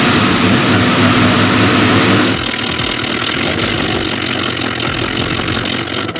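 A Ford Mustang engine runs loud and steady after a tune-up and fuel leak fix, with a rough, heavy tone that eases to a slightly quieter, even idle partway through.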